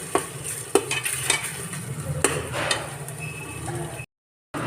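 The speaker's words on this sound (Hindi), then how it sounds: "अब इन्हें अच्छे से मिक्स कर लेंगे और अच्छे से पकने देंगे।" Masala is stirred in hot oil for aloo masala pulao. A spoon scrapes and taps the pan over a continuous sizzle, and the sound cuts out briefly near the end.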